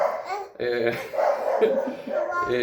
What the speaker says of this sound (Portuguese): Vocês estão percebendo que o cachorro está latindo